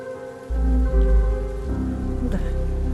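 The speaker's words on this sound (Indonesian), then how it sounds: "Di luar hujan." Rain falling outside: a steady, close wash of rain on surfaces, moderately loud throughout under a low hum and faint music tones, with no speech.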